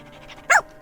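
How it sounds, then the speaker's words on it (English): A single short dog bark rings out close by, one sharp yelp against a quiet, slightly noisy background. "The barking in my ear"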